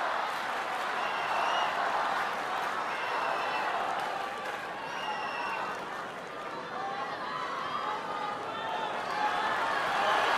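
A tennis crowd at the Wimbledon 2008 final between Federer and Nadal roars with sustained cheering and applause, a broad, continuous wash of noise from a large stadium audience.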